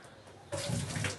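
Water poured off soaked lentils in a pan on the stove, a steady close splashing gush that starts abruptly after a quiet moment and runs on unbroken.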